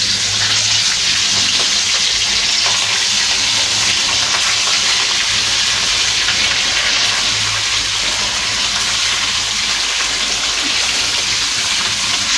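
Marinated fish pieces sizzle loudly in hot oil, an unbroken spitting hiss held at close range throughout with no voices over it.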